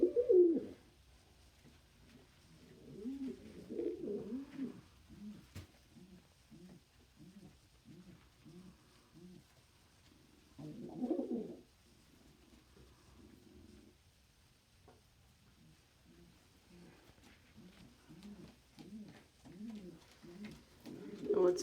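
Pigeons purr and coo quietly and close by, with rhythmic rolling pulses repeating in several long stretches and a few louder swells, set against a near-silent background.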